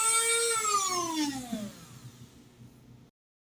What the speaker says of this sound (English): I may do the Dremel tool again on this side.